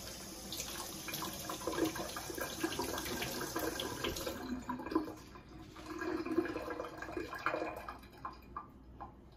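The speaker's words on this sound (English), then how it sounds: "I'm just gonna quickly rinse off my hands" Kitchen tap runs briefly as hands are rinsed during meatball preparation, a moderate splashing stream with irregular bursts, then stopping partway through and giving way to scattered small drips and clinks.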